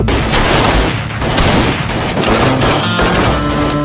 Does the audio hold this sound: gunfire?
yes